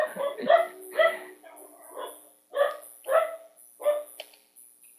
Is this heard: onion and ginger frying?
no